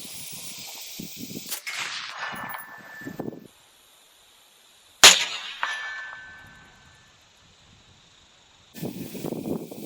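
One sharp, loud rifle shot fired at a target 165 yards away, followed by a metallic ring that decays, with quieter handling noise before and after and a murmur of voice at the end.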